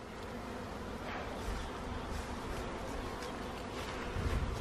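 Honey bees buzz around a hive frame during a beekeeping session: a faint, dense, continuous hum of many insects with soft rustling, no talk.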